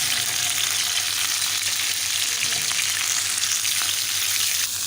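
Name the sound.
chicken frying in desi ghee in pan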